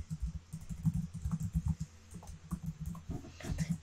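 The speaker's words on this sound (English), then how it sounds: "we're just gonna type a fake address because we don't have the real one yet" Rapid, irregular keystrokes on a computer keyboard patter in close, uneven bursts with brief pauses between runs of typing.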